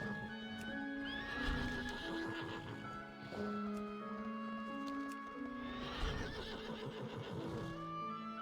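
A horse in World of Warcraft: Battle for Azeroth, the regal horse fetched from the estate on the hill in Tiragarde, whinnies loudly twice, once early and once late, with clip-clopping hooves and a musical score underneath.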